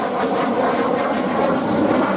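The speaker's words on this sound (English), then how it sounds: "Taxiing past the control tower now, Sally B, two inboard engines stopped" Steady, heavy drone of a vintage four-engine B-17 bomber taxiing close by on its two outboard engines at an air show, constant and loud without a break, no voices.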